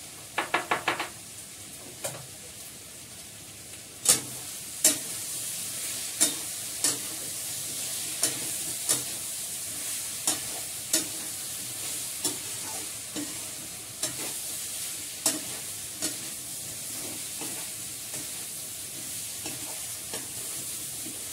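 Meat sautéing in oil in a home kitchen pan, a soft continuous sizzle punctuated by regular sharp clacks of a spatula stirring and scraping, about one knock every second or so, with an early burst of quick taps.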